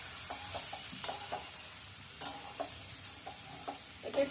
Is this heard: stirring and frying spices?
yes